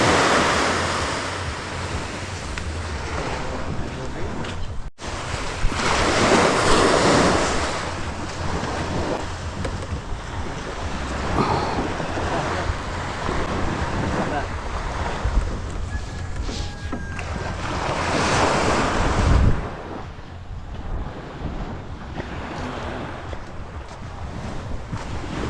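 Ocean surf rolls in by the sea with gusting wind buffeting the microphone, loud and continuous with surging swells and brief rushes of water; no talking.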